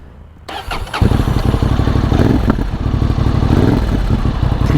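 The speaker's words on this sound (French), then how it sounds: "ce petit pot d'échappement, il fait le bruit suivant" A Honda Hornet 750 motorcycle engine cranks and fires up, then settles into a loud, throbbing rumble from its small exhaust close by with slight revs.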